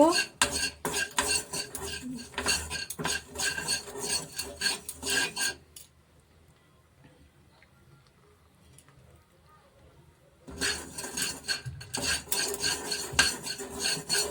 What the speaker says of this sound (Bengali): এটা ভালো করে শুকনো খোলা একটু ভেজে নেব